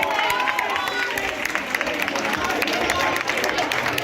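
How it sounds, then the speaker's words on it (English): A crowd at a Teachers' Day felicitation for professors applauds steadily, a dense wash of claps and cheering mixed with someone talking over it. "Keep the applause going for Srinitra, ma'am"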